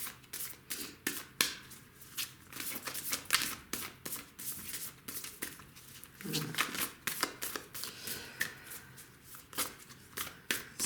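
Oracle cards being shuffled by hand, soft repeated riffling and flapping in quick irregular bursts, close and quiet, with a voice speaking intermittently.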